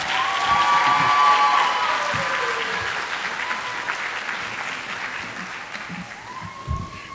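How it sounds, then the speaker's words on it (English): Applause from an audience at a pre-K and kindergarten graduation ceremony, a sustained wash of clapping that peaks early and slowly tapers off over several seconds. "can everybody give a warm round of applause for your new kindergartners?"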